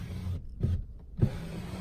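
Power rear sliding glass window on a 2016 Ford F-150 XLT pickup, its motor giving a low, steady electric hum that breaks off briefly midway and then resumes, close by with no talking.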